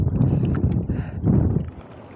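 Gusty wind buffets the microphone in low, rumbling surges that rise and fall, with faint background sounds and no talking.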